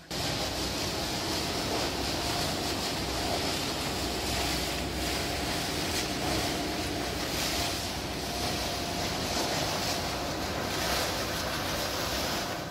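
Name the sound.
waste crusher machine shredding garbage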